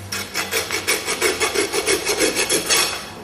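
A farrier rasps a small bevel around the leading edge of a horse's hoof where it meets the shoe, a close, loud run of about a dozen steady, rhythmic scraping strokes.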